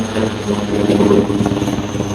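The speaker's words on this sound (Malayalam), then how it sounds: "നമുക്ക് ഹെലികോപ്റ്റർ പോകുന്നു" A helicopter in flight on the route to Lakshadweep gives a steady, loud rotor and engine drone that runs without a break for the whole stretch. No voices are heard.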